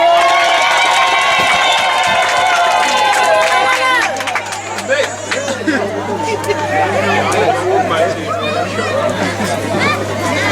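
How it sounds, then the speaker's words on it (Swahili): Wedding guests at a celebration let out high, sustained ululating trills, loud and close, fading after a few seconds into crowd chatter and cheering, with a steady electrical hum underneath. "Vigelegele."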